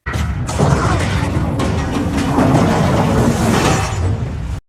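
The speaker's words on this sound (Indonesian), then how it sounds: "Tiba-tiba, ledakan dahsyat terjadi, mengakhiri pertempuran." A huge explosion ending a battle in a Venom film scene: a loud, sustained roaring blast with crashing debris and rumbling that holds for several seconds before cutting off abruptly.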